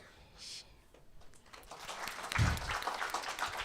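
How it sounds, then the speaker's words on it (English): Faint applause from an audience at a young authors' book launch swells gradually and stays soft and distant. "please give a huge applause to Rashida Bin"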